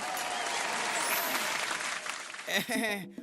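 A crowd claps loudly and steadily in an Eena Meena Deeka kids' cartoon, a dense burst of applause lasting a few seconds. A voice then speaks over it as the clapping fades.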